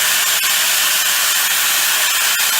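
Power tool cutting through a mini bike frame, a loud, continuous, harsh hissing roar that fills the whole clip with slight periodic surges and no talking.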